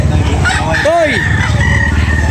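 A Black Makarin gamecock rooster crows once nearby, loud and clear over a noisy background of other fowl clucking and people talking.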